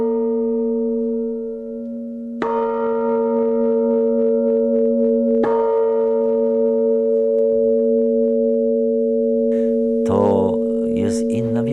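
Electronic church bell tones ring out from a historic church in Gwda Wielka, Poland, in sustained, pure pitches, with fresh strikes every few seconds layering over the fading hum; a brief murmur near the end.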